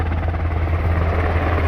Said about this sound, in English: We got some Army helicopter stuff.